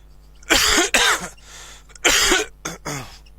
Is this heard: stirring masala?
no